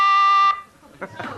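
A quiz game buzzer gives one loud, sustained electronic tone lasting about half a second, and a voice speaks briefly afterward.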